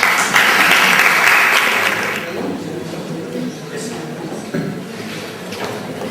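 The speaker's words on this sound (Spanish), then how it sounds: "Ahora cuando aplaudís." An audience at a secondary-school teachers' conference session claps, loud and dense at first, then thinning into scattered applause with murmured voices underneath.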